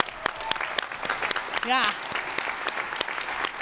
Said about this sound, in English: let's all give Lee Gross and Hal Schertz and the Doctors for Patient Care Foundation an applause